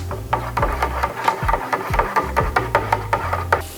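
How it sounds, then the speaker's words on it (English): Sugar being stirred vigorously into grape must for homemade wine, a steady run of rhythmic scraping strokes against the container, roughly three or four per second, close and fairly loud with no talking. "we're gonna stir vigorously until the sugar is dissolved"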